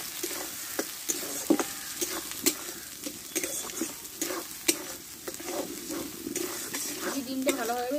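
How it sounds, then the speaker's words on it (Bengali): Beaten eggs sizzle in an oiled pan as they are scrambled into crumbs for egg paratha, with frequent sharp scrapes and taps of the spatula over steady frying hiss. "ডিমটা ভালোভাবে ঝুরি করে নেব।"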